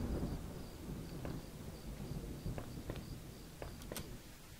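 Thunder rumbles low and steady while rain patters in a video game called Home, with a few sharp cracks toward the end, fairly faint and with no voices.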